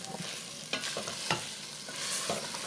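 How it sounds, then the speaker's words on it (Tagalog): Rendang paste sizzling in hot coconut oil while being stirred and tossed, a steady close fry hiss broken by a few sharp scrapes and clacks of the spoon against the pan. "coconut oil is starting to sizzle away from the paste"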